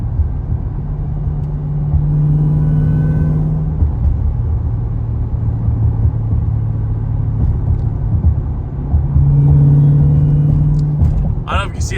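An AWD Chrysler 170 fitted with new fuel pumps drives off, its engine a loud, low rumble that swells twice under acceleration and then settles, heard from inside the car.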